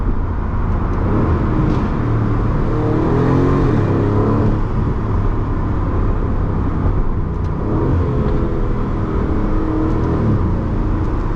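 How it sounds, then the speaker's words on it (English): An Aston Martin sports car's exhaust roars loudly and continuously as the engine revs up and down, with a few sharp crackling pops on downshifts near the end. "it sounds demonic, especially when you downshift. It crackles and snaps."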